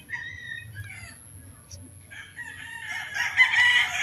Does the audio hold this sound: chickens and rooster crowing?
yes